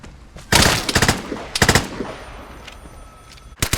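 Gunfire in the video game Vigor: several loud, close bursts of rapid automatic shots separated by brief pauses, then a final sharp shot at the end.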